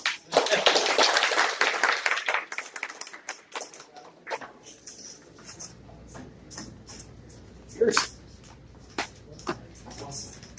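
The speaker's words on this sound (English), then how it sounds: "I'll take a round of applause anytime" Applause from an audience at a tech developer meetup: a dense, loud burst of clapping for the first few seconds that thins into scattered individual claps and fades into quiet room noise.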